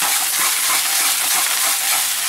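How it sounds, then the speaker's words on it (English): Swiss chard sautéing in a hot pan, a steady, loud, close sizzle and crackle of frying greens that runs without a break, with no talking. "now we're gonna add the Swiss chard and we're gonna saute"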